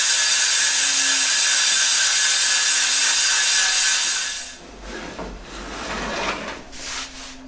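A bandsaw rips through wooden boards for a guitar body blank, a loud, steady, close whine for several seconds before it abruptly dies away, leaving softer scraping and handling noises.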